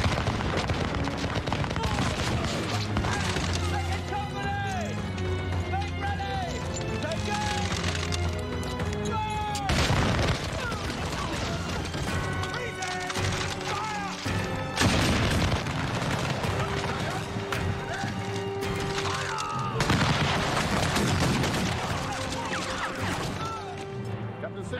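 Musket volley gunfire in a battle scene between British and American rebel armies during the Revolutionary War, heard as booming, crackling bursts that recur over a dense bed of orchestral music and shouted commands.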